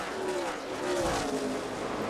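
NASCAR Nationwide Series race cars at Kentucky Speedway roar down the back straightaway, a steady, loud engine drone with rising and falling pitch as several cars pass close together.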